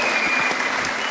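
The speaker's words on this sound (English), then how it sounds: "Give them a round of applause." A short burst of loud, dense clapping from a group, close and continuous with no voices over it.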